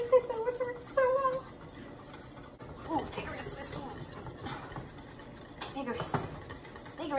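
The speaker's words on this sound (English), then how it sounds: "Vigorous whisking." Almond vanilla custard for choux buns is whisked vigorously in a bowl, a quick scratchy rhythmic stirring heard close, with a person talking over parts of it.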